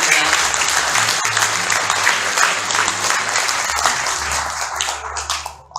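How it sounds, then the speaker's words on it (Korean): A crowd at a White Cane Day award ceremony applauds the prize winners with loud, continuous clapping that lasts throughout and tapers at the very end, with faint low tones beneath. "여러분 다시 한번 11분의 수상자분들께 큰 박수 부탁드립니다"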